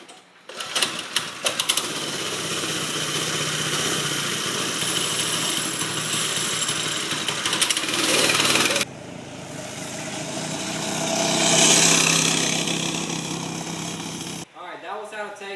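A 6.5 hp Greyhound go-kart lawnmower engine with its governor removed, running with a steady buzzing drone that later swells and falls, ending in abrupt cutoffs, with bursts of noise near the start.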